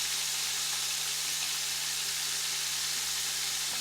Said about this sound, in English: We've got a skillet full here going. We're going to cook these up.